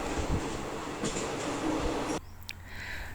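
Interior rumble of express train No. 85 running from Bangkok to Nakhon Si Thammarat, a steady broadband roar with rhythmic low thumps that suddenly drops to a quieter hum near the end, with no talking.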